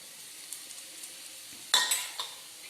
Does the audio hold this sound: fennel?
yes